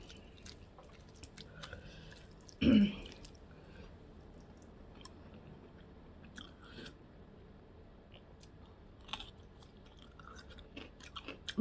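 Green chilli bitten and chewed during a home-cooked Kerala meal, one sharp crunchy bite followed by soft, quiet chewing and faint mouth sounds in a calm room.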